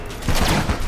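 Rapid gunfire in Enter the Gungeon, a burst of shots at close range over a steady game background, fairly loud throughout the short moment.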